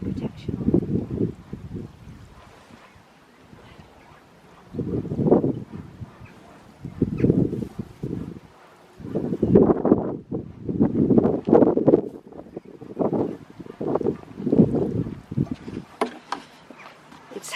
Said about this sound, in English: But it's a bit windy